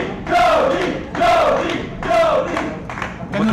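Crowd at a wrestling event, Jody Fleisch vs Aviv Maayan, cheering and shouting in rising and falling swells of noise, about four surges across the moment, loud and close.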